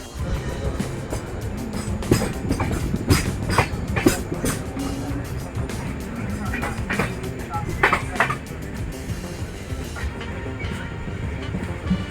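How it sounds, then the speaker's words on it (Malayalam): A passenger train pulls out of Mangalore toward Sakleshpur in the Western Ghats, heard from on board as a steady rumble with rhythmic clacks and rattles through the cars, along with background voices. "ട്രെയിനിന് പുറപ്പെട്ടു."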